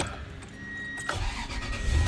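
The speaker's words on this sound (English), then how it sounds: "Start the engine." A first-generation Toyota Tundra pickup engine starts, with a brief starter whine and click followed by the low rumble of the engine catching, nearby and without talk.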